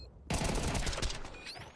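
Gunshots in Counter-Strike 2 during a tournament match, a sudden loud volley of rapid fire that starts abruptly and rattles on for over a second before trailing off, no speech.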